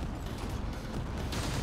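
Robot weapons firing all at once in the mech combat game Robot Warfare, a brief, dense, continuous roar of rapid gunfire and mechanical clatter, loud and unbroken, without speech.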